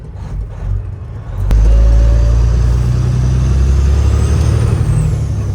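Copper Peterbilt truck engine with the throttle lightly touched, a deep idle rumble that swells into a loud, sustained low roar and holds steady, close by.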